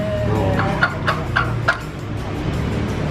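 A few short, sharp chicken clucks come through a steady background hum at an outdoor family aqiqah gathering, then fade into general ambience.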